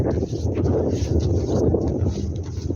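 Winter wind blows across snowy village countryside, producing a low, steady rumbling buffet close to the microphone with no clear voices.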